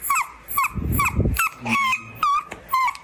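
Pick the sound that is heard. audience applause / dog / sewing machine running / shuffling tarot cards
dog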